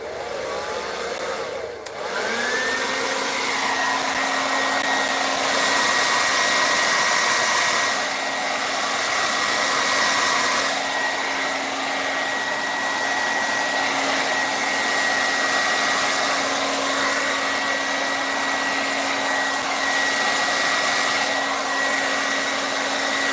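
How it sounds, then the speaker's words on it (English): A hairdryer blowing steadily at close range, used in acrylic pour painting, with a steady whine and tones that drift slightly as it moves; it starts after a brief knock and runs without talk. "I may get a little noisy with the hairdryer"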